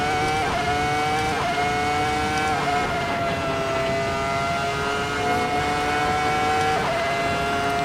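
A V10 Formula 1 car in a racing simulator, its engine screaming at high revs with harmonic tones that climb and reset at each gear shift, loud and continuous with no talking.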